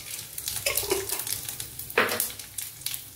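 Panch phoron spices crackle and sizzle softly in hot oil along with chili and bay leaf, with scattered scraping from stirring and a couple of sharper clinks from the pan.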